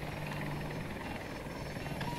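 An aircraft engine drones steadily overhead on a Battlefield 2042 battlefield, a continuous loud whirring hum with a faint tonal whine, sustained without pause across the moment.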